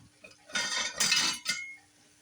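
A spoon clinks against dishes and cutlery in a kitchen, a short burst of bright, close metallic rattling and chinks lasting about a second.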